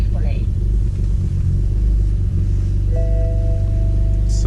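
A BMW 335i tuned to MHD Stage 2+ fires up roughly with a brief rising whine, then settles into a deep, loud, continuous rumble heard from close by.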